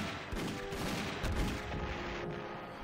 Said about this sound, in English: That's just mortars.